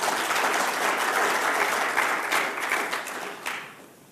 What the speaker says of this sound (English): let's give them also a hand of applause